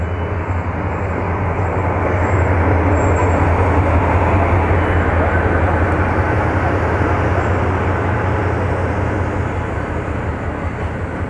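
An express train passes through Barqin railway station, a loud, steady roar and rumble that holds for about eleven seconds, up close and without speech.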